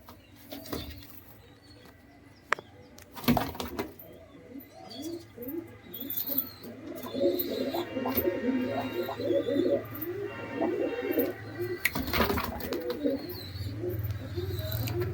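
Giribaz pigeons coo in a steady stream of soft, throaty, repeated calls, near and fairly loud, broken by a few louder flutters or knocks and some light chirps.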